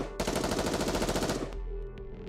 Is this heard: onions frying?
no